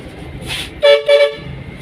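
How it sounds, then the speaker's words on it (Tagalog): A car horn honks twice in quick succession, two short, loud blasts close by, standing out over a low engine and street background. "Busina ako kunwari mga kabady para lumabas na siya mga kabady."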